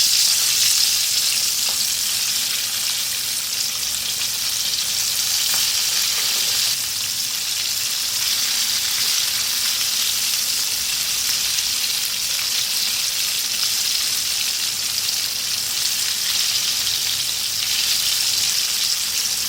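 Fish pieces coated in batter fry in hot oil, restaurant-style crispy fish, giving a steady, loud, close crackling sizzle that runs unbroken throughout with no voices.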